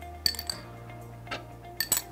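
Olives dropped into a salad bowl while making a Greek salad, a few sharp clinks against the bowl with brief pauses between them, close and fairly quiet, with no talk.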